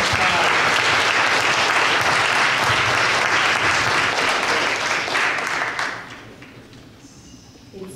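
Audience applause at a church service honoring military members, a dense sustained ovation that holds steady for about six seconds, then fades to scattered claps and near quiet.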